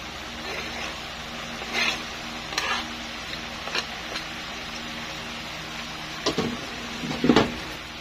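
Chili goes into a frying pan for a Bicol stingray dish, sizzling softly and steadily while a utensil scrapes and clinks against the pan in scattered strokes.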